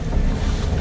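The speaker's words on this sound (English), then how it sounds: "The engine roared to life and the tourists sped away" Tourist boat speeding away with a roaring engine, a loud broadband rush dominated by low rumble and wind buffeting, with no voices.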